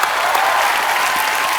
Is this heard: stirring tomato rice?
no